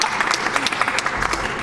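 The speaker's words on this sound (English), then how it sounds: "we're clapping for Kirby clutching it out" An audience at a Metroid Fusion speedrun race event claps steadily, a dense, even patter of many hands sustained throughout at moderate distance.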